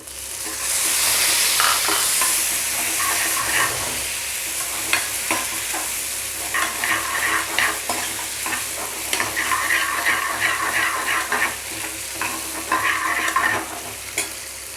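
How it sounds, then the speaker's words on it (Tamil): Onions and tomatoes fry in a pan for sambar, giving a loud, close, continuous sizzle. Frequent rhythmic stirring scrapes run through it, and no voices are heard. "ஆனியன் லைட்டாக கொஞ்சம் ஃப்ரை ஆன பிறகு நம்ம வந்து இது கூட தக்காளி"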